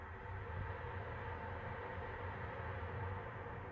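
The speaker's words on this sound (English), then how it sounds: "That's the sound of a train." A train rumbles past outdoors near Lorne House, a steady low broadband roar holding at even loudness throughout, fairly distant and heard alone with no voices.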